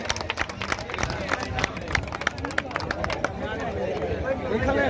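A crowd claps at an outdoor T20 cricket final prize-giving ceremony, with rapid, uneven hand claps over loud amplified announcing and background chatter. The clapping thins out toward the end as the talk continues.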